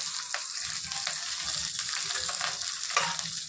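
Dried red chillies fry in a pan with a dense, even sizzle and occasional soft stirring scrapes, heard close and alone without speech.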